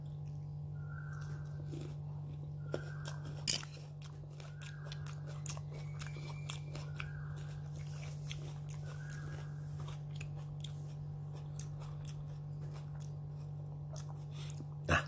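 Crisp bites and chewing of a chilled, ripe persimmon, a series of small crunchy snaps and moist chews close up, over a steady low electrical hum.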